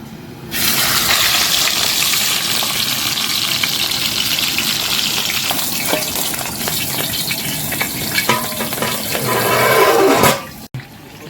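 Red snapper frying in a banana leaf on a pan, a loud, steady hiss and sizzle that starts abruptly and carries on evenly before cutting off near the end.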